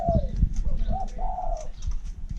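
Caged decoy birds call in the open, giving several short cooing and whistled notes at close range over low rumbling background noise.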